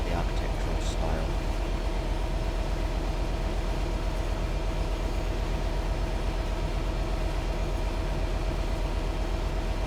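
Freight train driving southbound on the West Coast Mainline in Train Sim World 5, a loud constant rumbling drone of engine and wheels with a rhythmic rail beat throughout, steady and close.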